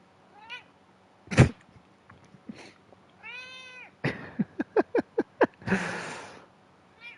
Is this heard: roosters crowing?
no